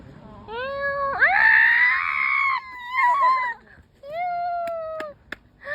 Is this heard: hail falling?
no